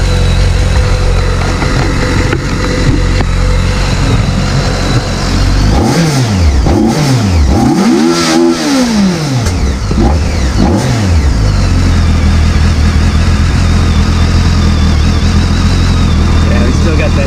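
A 15-year-old BMW K1200 GT motorcycle engine runs steadily up close, then revs up and down in several sweeping bursts before settling back to a loud idle.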